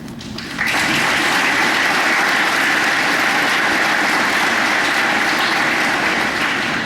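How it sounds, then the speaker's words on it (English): Loud, sustained applause from a school assembly crowd honoring veteran staff, beginning abruptly and holding steady for several seconds with no one speaking over it. "let's give a round of applause to our veteran staff members"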